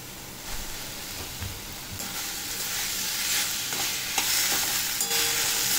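Jackfruit seeds being stirred and tossed through a sizzling masala in a pan, with a steady frying hiss and soft scraping stirs throughout, close and fairly loud, no talking.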